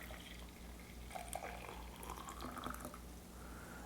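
Hot water is poured into a Caféjo French press holding a coffee pod, giving a faint splashing, gurgling fill with a few brief drips, quiet and nearby.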